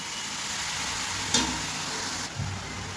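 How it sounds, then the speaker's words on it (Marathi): Grated carrot roasts in ghee for carrot halwa, a soft, even sizzle with a single stirring scrape partway through and a faint clunk near the end, close and fairly quiet, with no talking. "पाच मिनटं चांगलं मी ह्याला भाजून घेतले बरं का तुपामध्ये"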